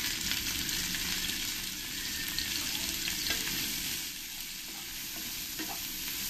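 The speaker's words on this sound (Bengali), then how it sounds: "এবার আমি এই তেলের মধ্যে পেঁয়াজ দিয়ে দেবো।" Onions frying in hot oil in a kadai for a paneer and green pea rice dish, a steady loud broadband sizzle with occasional stirring scrapes throughout, no voices.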